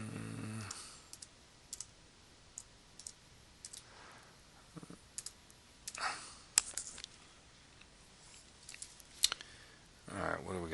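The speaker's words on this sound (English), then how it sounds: "I'm just going to type that in up here." Sparse computer keyboard keystrokes, faint and scattered clicks in a quiet room, a few isolated taps spaced over several seconds with a short burst near the end.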